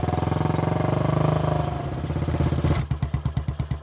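A motorcycle engine idles close by, first as a steady loud rumble and then as a slower, uneven chugging pulse as it settles.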